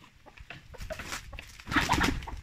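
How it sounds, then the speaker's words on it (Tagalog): Native chickens cluck close by in short, choppy bursts, getting louder and busier near the end. "Meron akong dalawang native chicken lang yan."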